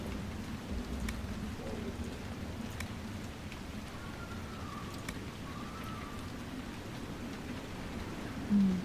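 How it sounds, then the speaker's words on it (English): Steady rain falls in the video game Dragon Age: Inquisition, a constant soft hiss with occasional faint ticks of drops, and no voices over it. "Soothing rain sounds"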